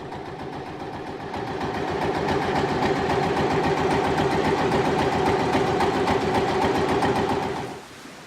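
A boat engine drones and chugs steadily throughout on a late-afternoon trip near Hoi An, Vietnam, a continuous mechanical rumble at constant speed, cutting out at the very end.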